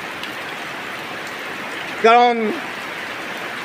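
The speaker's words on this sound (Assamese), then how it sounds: "চাওক এই শাৰদীয় বৰষুণ" Steady autumn rain falls throughout, a dense even hiss of drops, with one brief spoken word cutting in near the middle.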